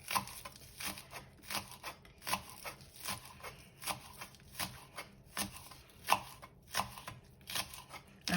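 Knife chopping green onions on a cutting board for a keto tuna salad, a steady series of crisp, evenly spaced chops, close and fairly quiet, with no talking.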